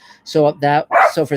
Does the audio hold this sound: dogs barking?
yes